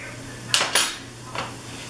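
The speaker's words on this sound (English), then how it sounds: "Empty the contents of a 14-ounce can of sauerkraut, liquid and all, into a frying pan" Canned sauerkraut goes into a frying pan with a couple of sharp metallic clanks, then a softer knock, close by, with no voices.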